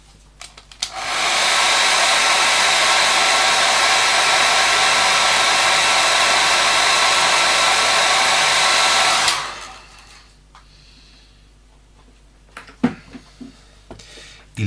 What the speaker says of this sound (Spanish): Vamos a darle otra vez un poquito de secador.